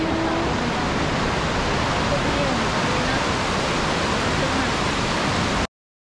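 A waterfall in Andorra roars as a dense, continuous broadband rush of falling water, loud and steady throughout before cutting off abruptly near the end.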